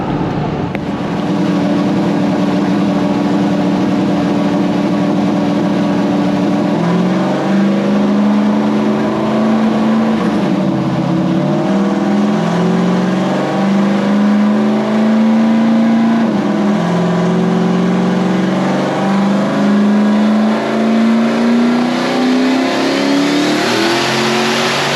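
A truck's Texas Speed 427 V8 revs hard on a dyno in a shop, loud and close, its pitch holding low at first, then climbing and dipping through repeated pulls, with no talking.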